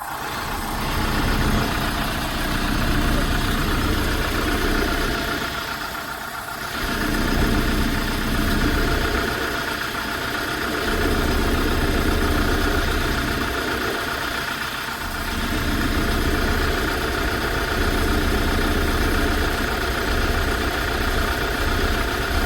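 A 2018 Kia Bongo one-ton truck with 142,800 km runs at idle, a close, steady diesel rumble that swells and dips gently in slow waves, with no talking over it.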